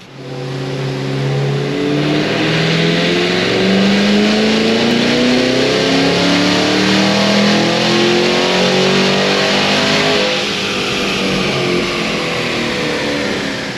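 An 800 hp Cadillac Escalade V engine on a dyno pull, loud and close. It climbs steadily through the revs in one long sustained acceleration of about fourteen seconds, then eases off at the end, with no voices.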